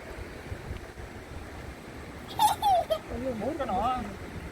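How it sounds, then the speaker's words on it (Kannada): The Hemavati river rushes strongly past, a broad steady roar of flowing water close by, with a child's and adult's voices breaking in briefly near the end. "ಎಷ್ಟು ಜೋರಾಗಿ ಹರಿತಾ ಇದ್ದಾಳೆ ಹೇಮಾವತಿ"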